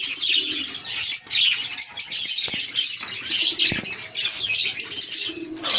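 Pet breeder birds, likely pigeons or doves in a cage, chirp and coo continuously at close range, with occasional bursts of wing flapping.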